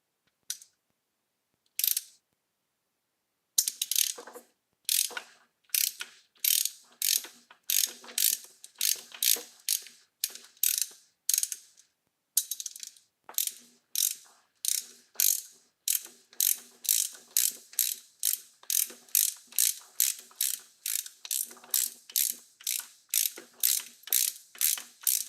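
A ratchet tightens a bolt on a car throttle body, starting with a few isolated clicks after a pause, then settling into a long run of crisp, evenly spaced ratcheting clicks close to the listener.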